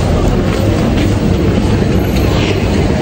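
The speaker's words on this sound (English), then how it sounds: "That's the metro behind me, and I'm walking home." A metro train passes close by with a loud, steady rumbling roar that holds throughout, with no talking.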